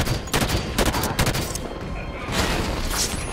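Heavy turret gunfire in Halo 5: Guardians pounds out a loud, continuous stream of rapid shots, with booming impacts layered over the barrage.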